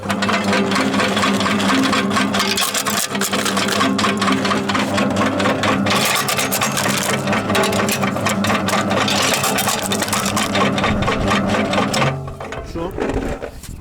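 A GRK-300 nutcracker machine runs on its first start with a loud, steady mechanical whirring and rattling that holds for about twelve seconds, then winds down and fades near the end.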